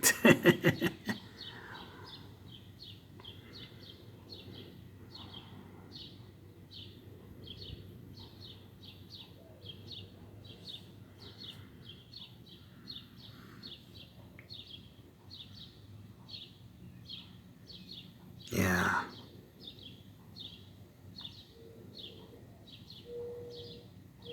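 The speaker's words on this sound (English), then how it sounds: "I think that's definitely an owl" An owl calls outdoors at night, soft repeated hoots in a steady rhythm from some distance, quiet against a low background hush, with one brief louder noise partway through.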